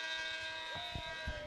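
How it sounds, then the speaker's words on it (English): An end-of-period buzzer sounds at a high school boys lacrosse playoff game, a steady sustained electronic tone running the full moment over crowd and arena noise. "Buzzer."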